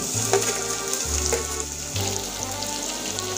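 Chopped onion dropped into hot oil with browned garlic, a loud, dense sizzle crackling continuously up close, with a faint clatter of utensils and no voices.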